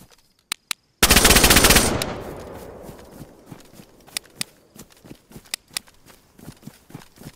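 Rapid automatic gunfire from a video game, a dense one-second burst followed by scattered single shots and short volleys at varying distances, with no talk over it.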